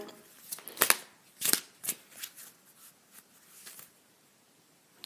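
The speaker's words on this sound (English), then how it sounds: "Let's just do one more shuffle" Cards riffle and flutter in a few quick, crisp bursts up close, then settle into softer shuffling and fade to quiet.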